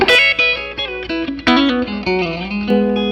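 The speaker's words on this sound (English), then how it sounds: "that's the bridge sound, which is typically the harshest sound." An electric guitar on its bridge pickup plays a quick run of bright, sharply picked notes through a Paul Reed Smith Archon 50-watt amplifier, dry, harsh and cutting, with no echo.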